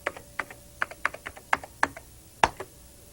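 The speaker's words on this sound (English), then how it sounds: "I type my password." Password typed on a computer keyboard at a System 7 Macintosh: a short burst of about a dozen distinct, close key clicks in an uneven rhythm, with one harder final keystroke, in a quiet room.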